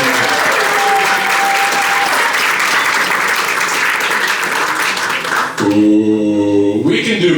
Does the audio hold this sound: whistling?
no